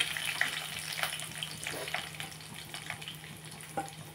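Dried red chilies frying in hot oil in a pan, a soft steady sizzle with light crackling and scattered pops, moderately close and with no one talking.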